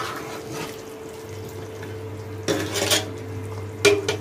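A large pot of chicken kurma with potatoes, cooked for forty people, bubbling at a low steady hum while a metal spoon stirs and scrapes against the pot in a few close clanks, no talk.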